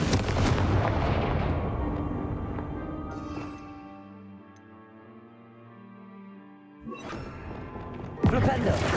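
Casting the Confringo spell in Hogwarts Legacy sets off a sharp blast that dies away into ringing tonal tails, then more explosive bursts crash in near the end.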